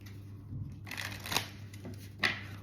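Cards from a romance angel oracle deck being shuffled and one drawn: quiet, close papery rustling with two crisp snaps of cards, no voices.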